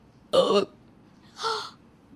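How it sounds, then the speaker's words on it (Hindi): A man gives two distinct burps at a family party meal, the first short and loud, the second softer and drawn out, with quiet between them and no talking. "तभी उसे डकार आ जाती है।"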